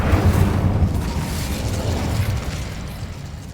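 A fire spell explodes in the Hogwarts Legacy video game, a loud, dense booming burst that rumbles on for several seconds, with no voices over it.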